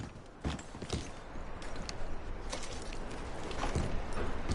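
Soft clip-clop of horse hooves walking at an unhurried pace in Red Dead Redemption 2, a few distinct steps over quiet ambient background.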